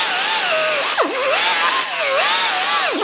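A power tool scours rust off the hub faces during a front brake job on a Chevy Silverado, a loud close whine whose pitch sags and recovers repeatedly as it bears down on the metal, steady throughout with no talking.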